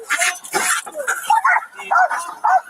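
Close dog barking at a roadside stop, a run of rapid yapping barks and whimpering yelps in an uneven rhythm, mixed with some voice-like sounds.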